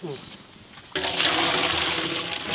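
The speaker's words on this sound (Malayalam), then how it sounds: "നമുക്ക് വെള്ളം എടുത്ത് ഇതിന് വെള്ളം മാറ്റാം" Water gushes loudly and steadily from a tap or vessel, rinsing grated potato pulp to wash out the starch, starting abruptly after a quiet opening and running continuously to the end.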